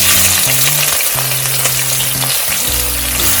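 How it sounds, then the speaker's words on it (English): Chopped onions with cumin seeds and spices frying in hot oil in an Instant Pot, a loud, steady sizzle close up with sustained tonal hum underneath and light stirring clicks. "Next I'll add in the cumin seeds, give it a quick mix, and I'll add in the chopped onions."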